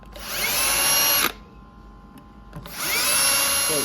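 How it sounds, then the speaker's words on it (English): A power drill whines at high speed while drilling out aluminum rivets on a Triumph TR6 horn, in two bursts separated by a short pause. "you're going to drill out these 6 aluminum rivets"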